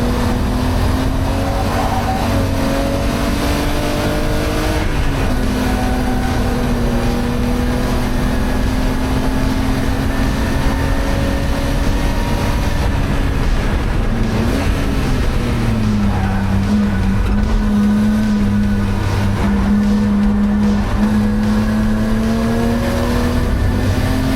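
A BMW E30 Cup race car laps the Zandvoort circuit, its engine droning loud and continuous from onboard, pitch rising and falling through upshifts, downshifts and corners over the whole run.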